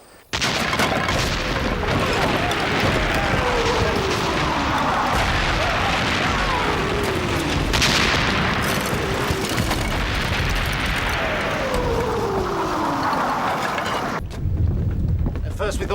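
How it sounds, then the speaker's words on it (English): French artillery cannon fire rolls in as a heavy, continuous barrage, with deep booms overlapping into a sustained loud roar that drops away abruptly near the end. "That is cannon."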